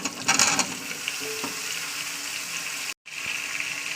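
Oil sizzles steadily in a pan with a continuous crackling hiss, briefly interrupted by a sharp cut of silence before the frying resumes.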